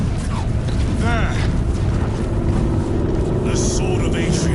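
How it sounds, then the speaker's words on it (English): Engines of approaching aircraft roar in the game Warhammer 40000: Space Marine 2, a loud, continuous rumbling drone with a rising whoosh, heard under shouted battlefield voices. "I hear engines"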